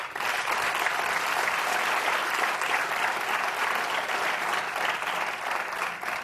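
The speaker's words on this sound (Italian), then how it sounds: "un applauso" An audience at a talk event at the Ara Pacis in Rome breaks into applause, a steady, moderately loud round of clapping from a crowd that runs for several seconds and tapers slightly at the end.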